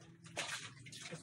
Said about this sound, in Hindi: ये जो मेरे पास गुड़ है सारा मैश किया हुआ है, इसे हम पानी में डाल देंगे।